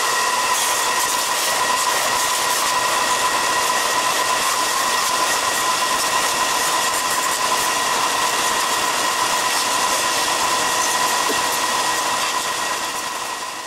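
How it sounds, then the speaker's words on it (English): Power sander shaping a wooden shad glide-bait, a loud, continuous, steady whine with a hissy grinding texture that runs unbroken for the whole stretch, close up and with no voices. "work some magic with the sander now"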